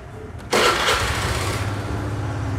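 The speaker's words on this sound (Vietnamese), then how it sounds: "bây giờ anh em cho nổ máy 10 phút nhé." A Honda Air Blade scooter engine catches after a moment of quiet and settles into a steady, buzzing idle, close and fairly loud.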